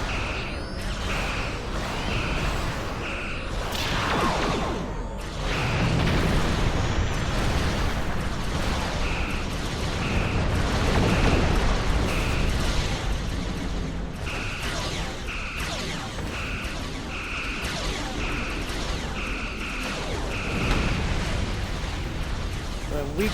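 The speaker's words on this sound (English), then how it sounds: "The alien Dreadnought is concentrating fire on the Tholian flagship." Alien Dreadnought weapons pound a Tholian flagship in a Star Trek Online space battle: a continuous wash of booming blasts, whooshes and crashes, with repeated short high beeping tones pulsing over the din.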